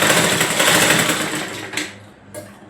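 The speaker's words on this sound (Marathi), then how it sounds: "अशा प्रकारे तुम्ही इथे शिलाई मारू शकता" A sewing machine runs loud and close while stitching a strip on a child's frock, its rapid whirring sustained before slowing and breaking off into a couple of short final bursts.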